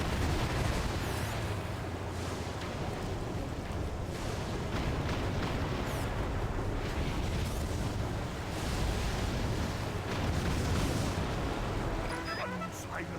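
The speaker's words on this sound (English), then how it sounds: "flak guns are shooting at me" Flak guns keep up steady, dense fire in the Battalion Wars 2 night mission, a continuous rumbling barrage of bursts that stays loud throughout, with a voice speaking over it now and then.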